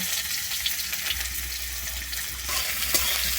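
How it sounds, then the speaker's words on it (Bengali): Chopped onions sizzling in hot mustard oil in a wok, a steady close crackling hiss that holds evenly throughout with a brief stir or clink near the end. "আমি কিন্তু পেঁয়াজটাকে লাল করে এখানে ভেজে নেবো"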